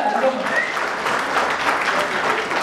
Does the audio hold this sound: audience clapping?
yes